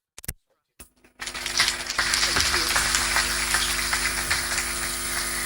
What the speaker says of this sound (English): That round of applause is not loud enough for a partner that is there for all times.